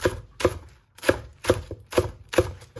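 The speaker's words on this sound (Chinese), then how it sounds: "接着我们再准备一把小香葱，改刀给它切成葱花。" A knife chops fresh green onions into fine pieces on a cutting board while eggs and ginger are prepared for steamed buns, with six sharp close chops falling in a steady rhythm and no talk.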